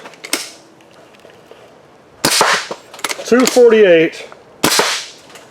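A paintball marker fires several sharp, close pops a second or two apart, with a brief spoken remark between the shots.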